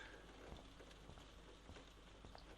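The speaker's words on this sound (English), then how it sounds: "You can hear the rain. I love that." Steady rain falling in the video game Life is Strange, a soft, continuous patter with scattered faint drop ticks, heard alone at low level.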